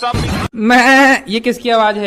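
A human voice imitates a goat's bleat, a long wavering cry, after a brief spoken question; talk resumes right after.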